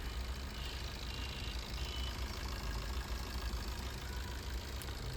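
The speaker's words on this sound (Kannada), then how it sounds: "ಆಮೇಲೆ ಇಂಜಿನ್ ಸೌಂಡನ್ನು ನೋಡ್ಬೋದು." A Maruti Ertiga car engine with a reported problem, idling steadily with a rough, low rumble that holds an even level throughout and has no talk over it.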